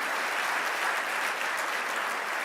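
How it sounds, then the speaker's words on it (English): An awards-dinner audience gives a sustained round of applause for the master of ceremonies, an even, continuous patter of many hands heard from a moderate distance, unbroken by speech. "Can we give Ed another round of applause for being an amazing master of ceremonies?"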